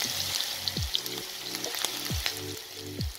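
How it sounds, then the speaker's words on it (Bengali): Onions frying in a pan with bay leaves and potatoes to follow, a soft continuous sizzle with faint spatters and a few scraping stirs of the utensil against the pan. "এখন আমি পেঁয়াজগুলো ভেজে নেব"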